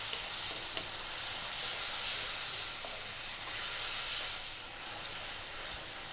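Tomato masala sizzles and hisses steadily in a hot pan as it is kept moving, a close, continuous frying crackle with no talking.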